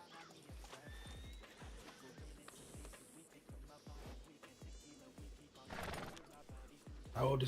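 Horses in the Red Dead (RedM) video game clip-clop in steady repeated hoofbeats and neigh, with a voice speaking faintly underneath.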